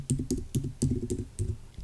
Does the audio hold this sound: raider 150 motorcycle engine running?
no